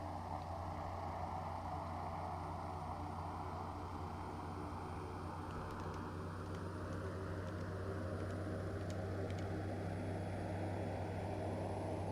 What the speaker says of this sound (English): This turboprop sounds lovely